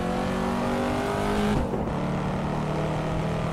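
Corvette C7 Stingray engine in the Assetto Corsa racing game, a loud steady drone holding near-constant revs for several seconds with a brief dip in tone, no talk over it.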